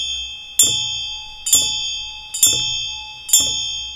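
Bell and damaru drum sounded slowly during Chod practice, four evenly spaced ringing strikes about a second apart, each a bright sustained ring over a soft low thump, close and alone.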